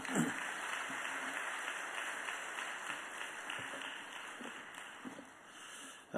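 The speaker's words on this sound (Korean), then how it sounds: "목사님 나올 때 박수로 환영하시기 바랍니다." Church congregation at a Sunday service applauding to welcome a guest pastor, a steady wash of clapping throughout, moderately distant with a sudden loud burst at the very end.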